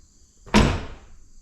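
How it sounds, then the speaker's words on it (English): The door of a GM OBS truck, just repaired with a new hinge pin and bushing, closes once with a single solid thud. The sound is close, and a short resonant decay follows before quiet returns. "let's see if this door shuts here"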